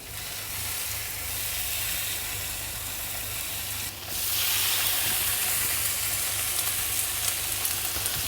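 Chicken slices for piccata fry in a hot pan of butter and oil, giving a steady, loud broadband sizzle that swells a little after a brief dip and carries on alone without talk.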